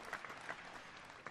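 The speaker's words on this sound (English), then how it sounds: "Let's give her a round of applause." A sound effects machine plays a quiet burst of canned applause, a short steady wash of clapping that runs for about a second with no voices over it.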